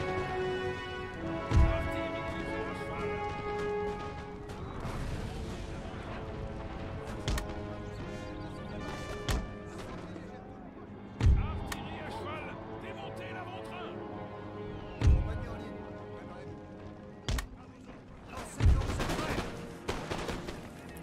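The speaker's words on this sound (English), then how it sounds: "Should be firing on this. Should see constant cannon." Cannon and musket fire in the Napoleon Total War video game, Battle of Lodi: repeated booming cannon shots every few seconds over crackling volleys of musketry and a busy battle din, with someone talking throughout.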